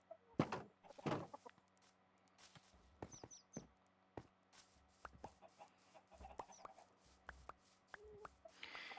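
Chickens clucking in the Minecraft video game, several short game sound effects scattered through the stretch alongside other blocky in-game noises, moderately loud and with no talking.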